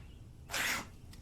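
A single sharp sneeze from a character in the video game Alan Wake, a brief hissing burst over a low, quiet background hum, followed by a faint tiny click.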